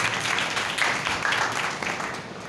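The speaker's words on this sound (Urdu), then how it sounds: "زوردار تالیاں خدا کے نام کے لیے" Congregation applause in a church service praising God's name, a dense steady clapping from many people filling the room, loud and sustained throughout with no clear talking.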